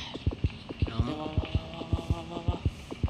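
Steady heartbeat thumps from the Granny horror video game, about a dozen evenly spaced low double beats over a soft hum, with faint background music.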